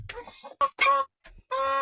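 A broody hen clucks in several short bursts separated by brief pauses, fairly close and clear, with no one speaking.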